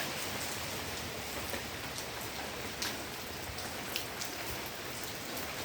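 Heavy rain pouring down in a steady dense hiss of drops on surfaces, even and continuous throughout with no voices.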